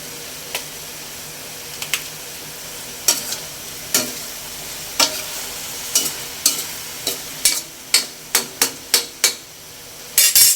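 Chili being stirred into a sizzling Filipino ampalaya (bitter gourd) dish, with a steady fry under a series of sharp spatula scrapes and taps that come faster toward the end, close and fairly loud with no voices.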